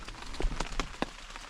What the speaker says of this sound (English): So it's still raining, you all.